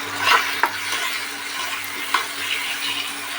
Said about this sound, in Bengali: মশলাটা একটু ভাজা ভাজা হয়ে গেল হালকা